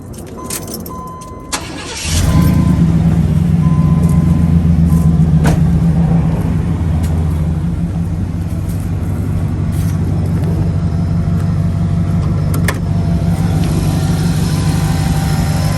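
A 1990s-style Chevrolet Impala SS clone cranks, catches and settles into a deep, loud, steady idle rumble that carries on unbroken, with a faint jingle of keys just before the start.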